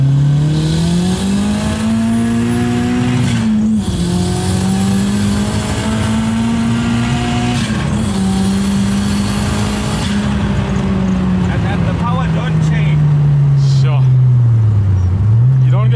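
VW Golf Mk1 with a 2-litre 16V turbo engine accelerating in second gear, a loud droning engine note rising and falling steadily inside the car, with voices talking over it.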